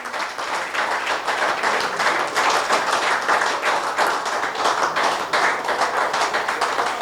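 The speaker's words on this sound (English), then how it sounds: "Give yourselves a round of applause." Steady, even applause from the crowd at a party branch meeting in St. Michael, with distinct individual claps audible in the mix, continuous at moderate loudness from start to finish.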